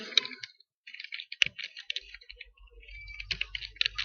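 Rapid keystrokes on a computer keyboard as C# code is entered in Visual Studio 2013 for a Windows Form, sounding as close, uneven bursts of light clicks with a single louder thump partway through.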